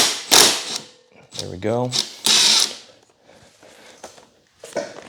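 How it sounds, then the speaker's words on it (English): An impact wrench with a 17mm impact socket loosens a nut on a Baja scooter build in two short, loud, harsh bursts, with someone speaking briefly between them. "I'm just gonna blast this nut with the impact."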